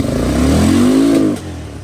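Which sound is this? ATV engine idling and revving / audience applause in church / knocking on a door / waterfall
ATV engine idling and revving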